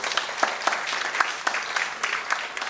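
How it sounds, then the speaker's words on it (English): Audience at a Lions District meeting applauding, a dense, steady patter of many hands clapping close by for a few seconds. "Please give him a loud round of applause."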